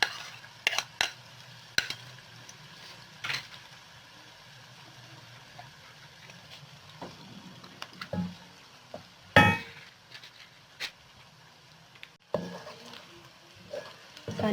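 Ginger-garlic paste frying for a potato kofta curry gravy gives a faint, low hiss, broken by scattered scrapes and clatters of a spoon against the pan, quiet and close with gaps between strokes.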